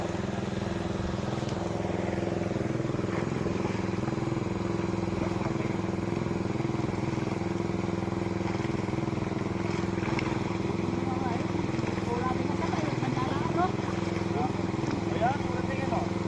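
Motorcycle engines idle and rumble steadily at a fish loading area, a continuous low drone under ongoing talk.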